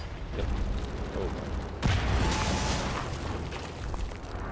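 A grenade thrown in the shooter Wolfenstein The New Order goes off with a sudden loud blast that blows a hole, followed by a lingering rumble, after a stretch of noisy game sounds.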